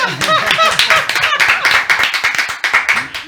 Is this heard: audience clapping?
yes